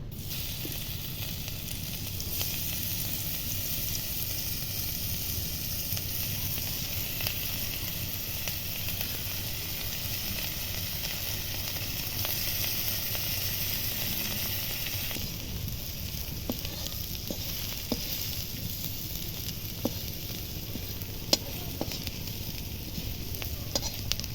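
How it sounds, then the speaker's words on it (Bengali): Lentil cakes fry in hot oil in a pan, giving a continuous, even sizzle and hiss, with a few faint clicks and taps near the end. "তেলটা গরম হয়ে গেছে এবার একটা একটা করে"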